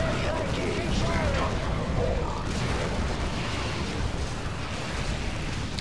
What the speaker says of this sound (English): Artillery strike here.